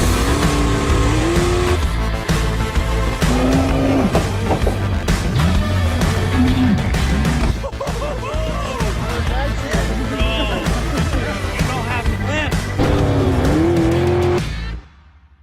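Jet sprint boats race at Meremere, New Zealand, with loud engines revving and rising in pitch in repeated surges, and someone talks over them.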